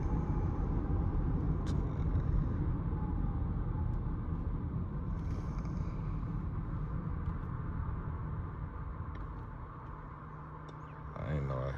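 A Mercedes-Benz C300 cruising along a boulevard at night, its steady low road and engine rumble heard from inside the cabin, with muffled voices underneath, easing slightly toward the end.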